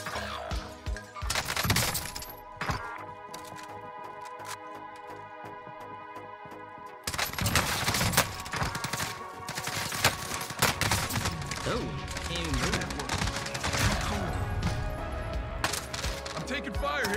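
Call of Duty firefight with dense bursts of gunfire, sharp cracks and shattering impacts coming in rapid volleys, loud and close, while players talk over the action.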